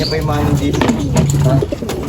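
Racing pigeons cooing in a loft, with low, rolling coos repeating close by over a background of other birds and activity.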